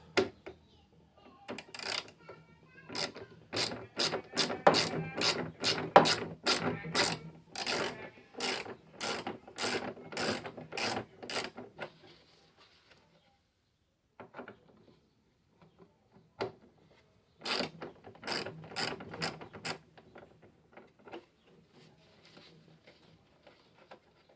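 A hand ratchet removes the 5/32 bolts holding a saddlebag on an Indian Challenger motorcycle, with long runs of rapid, evenly spaced clicks, a quiet pause, then a shorter burst of clicking, close by.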